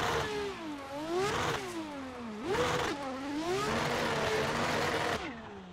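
Turbocharged drift car engine in the Assetto Corsa racing game revving loudly and continuously, pitch swooping up and down through repeated throttle blips and sustained high-rev stretches, cutting off abruptly near the end.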